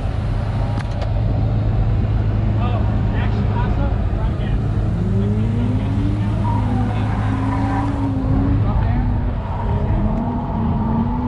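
Loud, continuous engine roar at a drifting and drag racing event where a Ford Mustang runs, with rising and falling revs over a steady low drone and people talking nearby.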